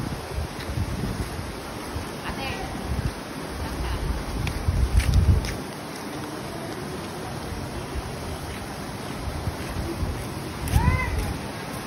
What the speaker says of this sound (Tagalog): At ito nga yung ilog banda.